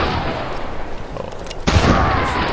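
Gunfire in the Risk II strategy game crackles as a dense burst of shots that suddenly grows louder and sharper partway through, close and steady with no talk.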